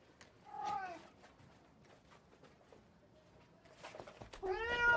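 A street cat meows several times, close and clear, with short drawn-out cries early on and a louder, more insistent caterwauling meow at the end.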